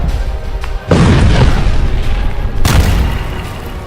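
Heavy explosions from Israeli military strikes boom out, a loud blast near one second followed by a rumbling roll, then a second strong blast around 2.7 seconds with sustained low rumble and no talk.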